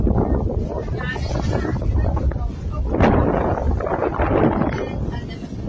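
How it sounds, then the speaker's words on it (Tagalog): Strong wind buffets the microphone with a rough, roaring rush, over which a voice speaks, with churning wave noise beneath. "Lakas ang hangin, alon."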